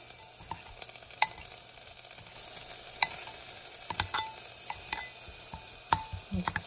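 Food stirred and tossed with Parmesan in a pan, scattered clicks and scrapes of the utensil over a soft sizzle, close and uneven, with no talk.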